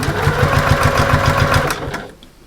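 A sewing machine stitches fabric close to the top of a fold with a shortened stitch length, for a home storage caddy: a steady, rapid mechanical chatter runs loud for about two seconds, then stops and fades into quiet room tone.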